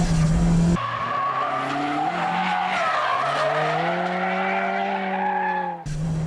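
A tuner car on a circuit slides with long, loud tyre squeal, the rising and falling screech sustained for several seconds over engine noise, bracketed by brief cuts of other sound.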